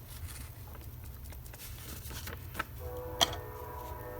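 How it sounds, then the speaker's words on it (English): A distant train whistle sounds in a drawn-out tonal blast in the last second or so, faint over a low background hum and soft tapping. "Now we have a train whistle."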